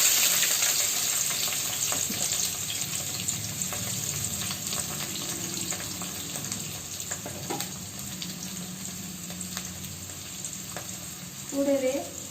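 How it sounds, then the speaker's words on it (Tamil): Mustard seeds and urad dal frying in hot oil as a tempering for sambar, a steady close hiss with scattered crackles and pops throughout, ending with a brief clatter of stirring. "கடுகு உளுத்தம் பருப்பு போட்டுக்கிட்டு அதில் போட்டு வேக வச்சுட்டேன்."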